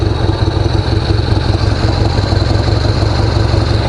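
A custom Harley-Davidson XR883 motorcycle engine runs steadily close by, a loud, even, throbbing rumble with no speech.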